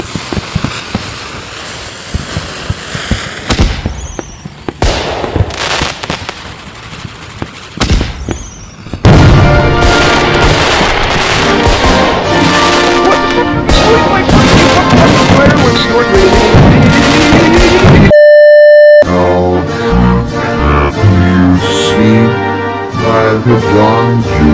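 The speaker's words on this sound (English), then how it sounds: "All right, let us light up this firework." Fourth of July fireworks crackle and pop in scattered bursts, then a long, dense stretch of loud booming and sizzling follows, with a brief electronic tone and a musical passage cutting in near the end.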